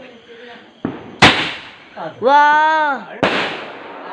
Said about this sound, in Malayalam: അടുത്തതായി പടക്കാണ് പൊട്ടിക്കാൻ പോകുന്നത്